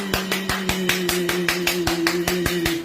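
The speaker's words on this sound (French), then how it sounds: "Un bravo, deux bravos, trois bravos. On applaudit." An audience applauding at a comedy sketch about Gabon, with rhythmic unison claps about six per second over a steady hum, loud and close.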